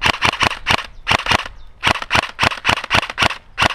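A WE Katana airsoft replica fires about fifteen sharp, close, loud shots in quick irregular bursts, each a snappy crack with a short pause partway through the string.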